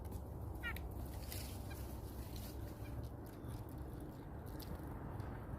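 Birds arrive at food set out outdoors, giving faint, scattered calls and a few brief chirps over a steady wash of background noise, with no talking.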